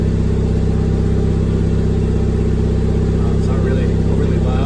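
A Ford Fiesta ST engine idles loudly and continuously through an aftermarket 3-inch Thermal R&D exhaust, with a deep, throaty exhaust rumble, steady throughout with no revving, heard close up.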